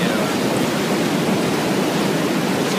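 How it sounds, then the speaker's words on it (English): Air scour bubbles up through a granular media filter during backwash, with water standing a foot or two above the media. It makes a dense, steady, roaring wash of bubbling and churning, loud and continuous throughout with no pauses. "we have the air scour just beginning"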